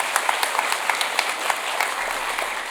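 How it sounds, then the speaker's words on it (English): A convocation audience for the spring 2024 graduating class applauds steadily, a dense, even wash of many hands clapping at a moderate distance, continuing alone throughout. "Round of applause, one more."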